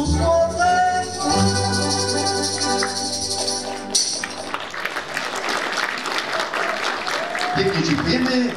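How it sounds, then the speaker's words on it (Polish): Audience applause for women performers from a rural housewives' club at a Silesian dialect comedy contest, breaking out midway after music and building into steady, loud clapping that runs to the end. "Brawa się należą artystkom z koła gospodyń wiejskich."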